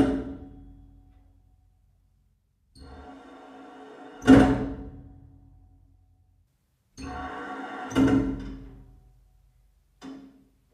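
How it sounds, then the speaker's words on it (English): Several heavy bangs and thuds of water hammer in pipes, each with a low rumbling rush before or after, separated by silence and ending with a short final knock. "It's the sound of WaterHammer, sometimes called hydraulic shock or surge."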